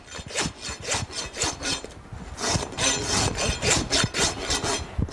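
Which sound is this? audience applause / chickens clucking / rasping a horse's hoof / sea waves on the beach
rasping a horse's hoof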